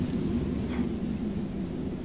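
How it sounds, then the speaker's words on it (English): Heavy storm rumble from the Telltale video game The Walking Dead: The Final Season, a steady loud low roar of thunder and rain filling the whole stretch with a brief brighter crackle partway through. "Oh my god, that's a loud storm."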